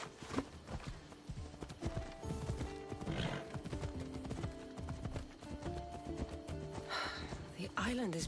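Horse hooves clip-clop steadily during a ride in a video game set on a sunny island, with a horse snorting and whinnying amid ambient sound while a man and a woman converse over it.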